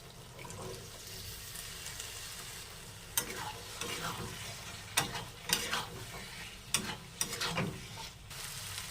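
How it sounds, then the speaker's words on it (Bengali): Boiled kabuli chickpeas and potatoes being stirred into fried masala for ghugni with goat fat, a steady soft sizzle broken by several scraping stirs of a spoon against the pan, with some watery sloshing. "এবার দিয়ে দেবো সিদ্ধ করা কাবলি ছোলা আর আলু"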